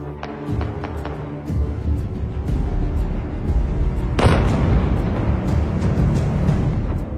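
A loud, sudden blast from a military strike bursts out partway through, followed by a dense rumbling roar that lingers over steady low background noise.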